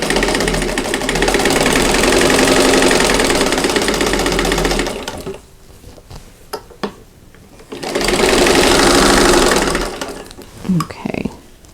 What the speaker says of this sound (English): I'm going to do one corner, and then I'll sew one onto the opposite corner.